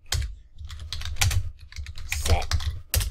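Rapid, uneven clacking of keys on a computer keyboard, close and fairly clear, with bursts of quick keystrokes and brief pauses throughout.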